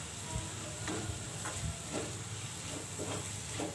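Ground masala for a dried squid thokku sizzles steadily in a hot pan with soft scraping and stirring strokes, continuous and fairly close, with no voices.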